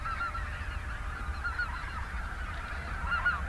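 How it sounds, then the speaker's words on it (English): Large flock of white-fronted and snow geese in a pasture near a lake, a dense, constant chorus of overlapping honks at moderate distance. "These are white-fronted and snow geese, and they're coming through in the, well, I guess thousands."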